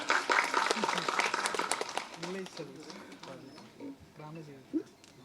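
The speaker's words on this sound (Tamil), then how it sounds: "நல்லா கைதட்டுக்கணும்" Press meet audience clapping in a burst that fades after about two seconds, followed by someone speaking alone.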